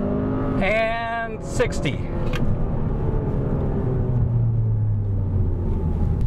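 A 2021 Hyundai Sonata N-Line launches hard from a dead stop in manual shift mode, its engine rumbling loud and steady from inside the cabin with a brief squeal early on, while a person talks over it.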